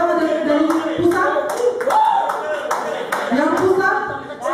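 An audience at a meeting claps in scattered, uneven bursts while voices talk over the applause and stay prominent throughout.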